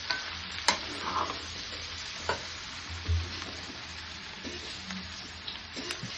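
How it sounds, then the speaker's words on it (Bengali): Mutton fries in a kadai with a soft sizzle while a spoon stirs and scrapes it in scattered knocks, all fairly quiet and close. "আবারও একটু নেড়ে চেড়ে দিচ্ছি।"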